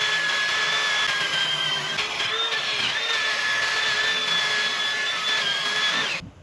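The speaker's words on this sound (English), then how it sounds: "Clean the surface with the iron brush." Steady metallic whirring scrub of an iron brush cleaning a VW brake disc surface during a home brake pad and disc replacement, continuous and close for several seconds before cutting off abruptly.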